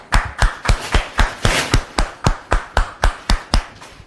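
An audience claps to welcome a guest onto a talk show, striking sharp, loud claps in a steady unison rhythm about three per second, with no talk over them.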